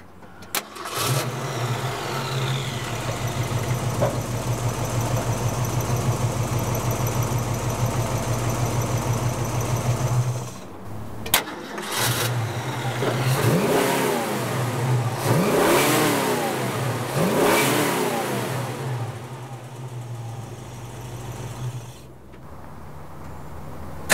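A 1966 Ford Mustang Fastback's deep V8 with a 2.5-inch exhaust rumbles at a steady idle, then revs up in several rising, roaring bursts before settling back down; loud and close.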